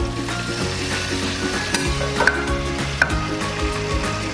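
Tofu frying in hot oil in a pan, a steady near sizzle with a few sharp clicks and stirring scrapes, alone without talk.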